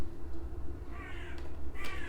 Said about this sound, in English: The birds, they're going on one outside.